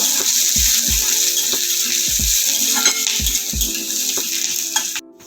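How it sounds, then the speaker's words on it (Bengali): Onion and garlic fry steadily in a pan with a loud, continuous sizzle, and a utensil scrapes and clacks against the pan in repeated stirring strokes throughout. "পেঁয়াজটা নেড়ে চেড়ে ভালো করে ভেজে নেব।"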